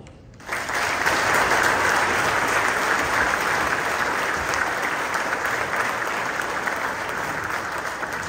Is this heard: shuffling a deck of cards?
no